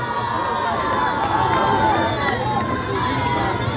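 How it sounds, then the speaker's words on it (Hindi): Stadium crowd at a village volleyball tournament match, a steady dense roar of cheering and children's shrill shouts filling the background continuously, with no clear individual clapping. "नौजवानों की तालियां और मासूम बच्चों की किलकारियों से गूंजता हुआ स्टेडियम"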